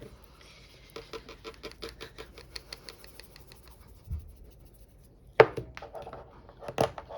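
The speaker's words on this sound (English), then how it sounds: "they all really need a really good stir" Paint-by-numbers paint pots are stirred, giving quiet, quick rhythmic clicks and taps that come in bursts, with a couple of louder knocks near the end.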